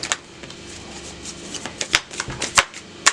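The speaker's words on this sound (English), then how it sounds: "One more shuffle." Tarot cards shuffled by hand during a reading, a run of soft papery riffles and sharp flicks, several crisp snaps standing out near and alone with no talking.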